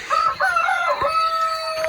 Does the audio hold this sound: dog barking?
no